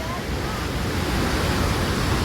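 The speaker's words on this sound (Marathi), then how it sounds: "ही आहे भागीरथी नदी जी परशुरामाने स्वर्गातून आणली होती" The Bhagirathi river rushes loudly on the way to Gangotri, a dense roaring wash of water with spray, close and continuous.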